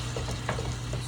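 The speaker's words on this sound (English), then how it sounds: "so we're going to toss the vegetables in" Vegetables and meat tossed into a hot pan on the stove, a brief close crackle of sizzling with light stirring scrapes and no talking.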